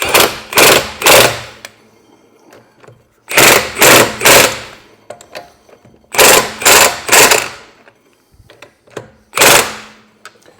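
Wheel nuts done up on a Vauxhall Mokka with a rattling impact wrench, loud close bursts in groups of three or four with short pauses between.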